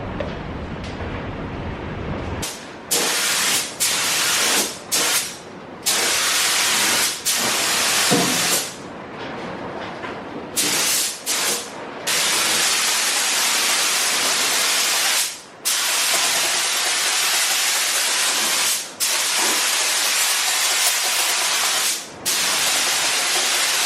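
A spray gun lays the final paint coat on a car body, loud continuous hissing bursts broken by short pauses between passes.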